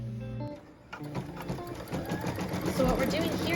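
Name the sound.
sewing machine stitching quilt block placement line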